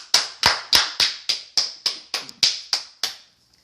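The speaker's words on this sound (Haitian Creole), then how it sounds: "On nous applaudit chaudement la sœur Miss Lady" Steady rhythmic clapping from a church congregation welcoming Sister Miss Lady: about a dozen sharp, evenly spaced claps, close and fairly loud, with no voices.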